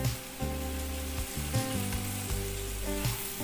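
Fenugreek leaves, stems removed, dropped into a hot pan for restaurant-style aloo methi, giving a steady sizzle and frying hiss throughout, with a few stirring bumps and a background hum.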